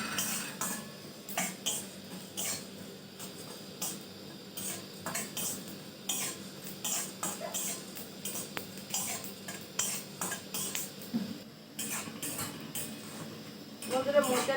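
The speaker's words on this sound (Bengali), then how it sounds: "শুকনো করে একটু হালকা করে ভেজে নেব।" Whole cumin, coriander, whole garam masala and a dried chili dry-roasting in a pan, with a steady run of close scraping and clinking stirring strokes against the metal throughout, no voices over it.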